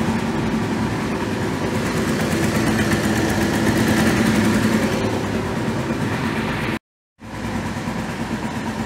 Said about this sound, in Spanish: El motor ya no se estabilizó, quedó temblando.